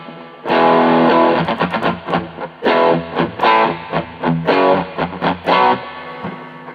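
Electric guitar played through a crunch distortion pedal, loud and close, with chords and picked notes in short phrases and gaps between them.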